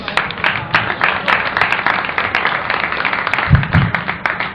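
A comedy club audience at Mark Ridley's Comedy Castle claps and stomps their feet for a stand-up comedian, dense continuous applause with a few heavy low thumps of stomping near the end.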